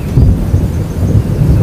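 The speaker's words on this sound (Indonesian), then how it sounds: "Cuaca cerah, suara petir dan hujan rintik-rintik ini." Thunder rumbles low and continuously in a forest under a clear sky, with a light drizzle pattering faintly over it, loud and steady with no voices.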